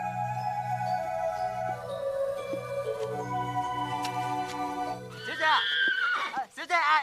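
A horse in an old film neighs in a long, loud, wavering whinny that rises and falls over a sustained musical score, finishing with a shrill burst near the end.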